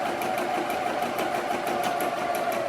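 A domestic sewing machine edge stitches along fabric with a rapid, even mechanical chatter, close and steady throughout.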